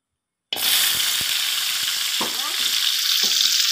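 Mushrooms hit a hot pan after a moment of silence and burst into a loud, steady sizzle that carries on to the end, with a few stirring scrapes over the hiss.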